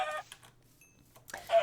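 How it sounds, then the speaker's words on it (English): Chickens in Minecraft give short, clipped clucks close by, two bursts at the start and another at the end with quiet between them. "So let's go ahead and kill some chickens."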